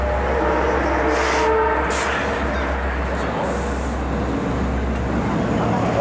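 Train station ambience with a steady low rumble of an idling train, constant and fairly loud throughout, with faint muffled voices in the background.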